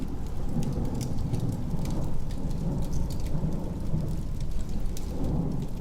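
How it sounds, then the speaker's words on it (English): A thunderstorm with steady heavy rain on surfaces and rumbling thunder, a dense continuous downpour with crackling drops throughout, no voices. "let the storm rage outside"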